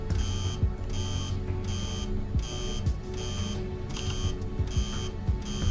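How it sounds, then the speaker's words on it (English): On a homemade spacecraft simulator panel, a master alarm beeps in a regular on-off pattern, each bright electronic tone lasting about half a second, repeating steadily over a constant electrical hum. "It's probably throwing me a master alarm because it's over 30 degrees Celsius."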